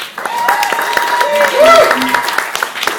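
Audience at a stand-up comedy show claps and cheers, the applause running steadily beneath raised voices and shouts from the crowd.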